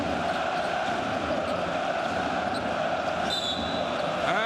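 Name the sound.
basketball arena crowd cheering loudly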